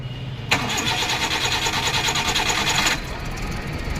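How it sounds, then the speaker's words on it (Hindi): A Maruti Eeco van engine cranks and catches, a bright whirring burst of roughly two and a half seconds that settles into a steady idle, heard close up. "ये देखो गाड़ी स्टार्ट।"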